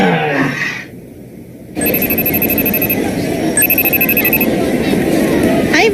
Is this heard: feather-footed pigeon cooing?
no